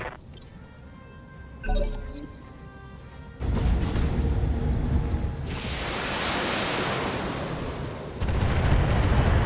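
Allied mechs fire their weapons in the BattleTech video game, producing a quieter opening followed by a sustained roar of booming, rumbling weapon blasts.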